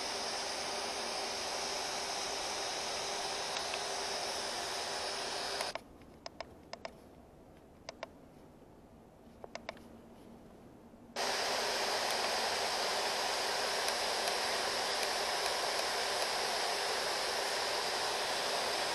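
Steady, loud broadband hiss of white noise from a radio, cutting to near silence with faint clicks for several seconds before the hiss returns at full strength.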